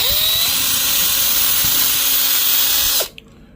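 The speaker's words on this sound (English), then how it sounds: "my trusty 3D pen, and I'm going to mush 3D pen all the way down" A continuous high-pitched whirring hum from a 3D pen extruding plastic at 180 to 210 degrees runs steadily and then stops abruptly, leaving near silence.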